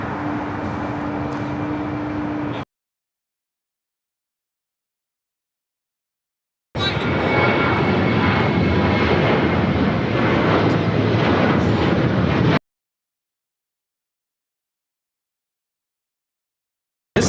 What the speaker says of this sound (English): This is Alaska Airlines 1148 taking off to Portland, Oregon on a 737-900ER